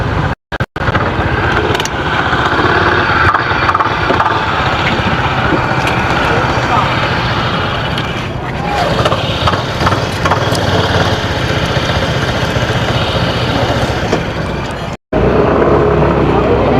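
Motorcycle engine running steadily near a ferry crossing in the Philippines, a loud continuous rumble lasting throughout, with voices talking over it.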